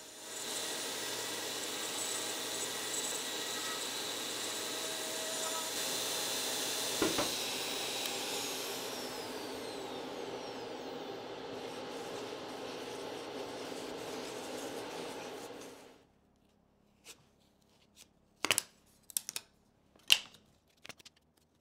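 A Shaper Origin handheld router with a 1/8 inch bit cuts through an inlay piece, a steady high whine and hiss that runs about fifteen seconds, then stops, followed by a few sharp knocks in near silence.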